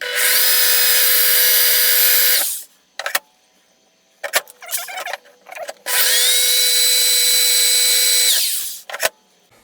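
Power drill boring into an electric bicycle part, running in two long, loud, steady whines of a few seconds each, separated by short bursts and brief stops, close up with no talking.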